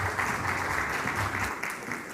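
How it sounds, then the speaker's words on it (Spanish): An audience at a conference on Camisea natural gas applauds to welcome a speaker, with dense, steady clapping filling the room for about two seconds and a faint low murmur underneath. "vamos a recibirla con un muy cálido aplauso"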